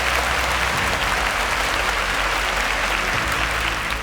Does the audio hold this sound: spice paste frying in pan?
no